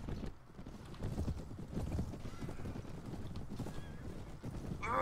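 Cavalry horses gallop in the Mount and Blade video game with dense, steady hoofbeat clatter and a few whinnies in a loud, busy battle scene.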